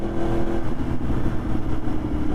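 A Yamaha R1 motorcycle engine runs steadily while riding, a dense, continuous mid-pitched drone with a rough throbbing texture and no pauses throughout.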